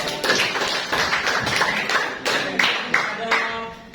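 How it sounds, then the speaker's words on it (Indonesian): Applause from a small classroom group of teachers for a presenting group, a scattered patter of hand claps with a few sharper taps, steady and fairly close, while someone talks over it. "Kasih aplaus buat kelompok 5"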